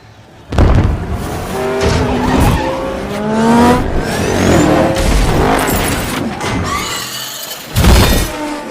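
Race cars roar through a chaotic race in the Ready Player One OASIS game world, with loud engine revving, tire squeals and skids rising and falling, and sharp impacts near the start and end.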